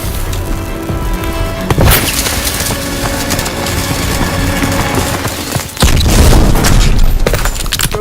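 A thermite charge detonates in the video game Call of Duty WWII, with a loud sudden crack and boom, then a heavier booming blast amid ongoing battle noise and clattering debris.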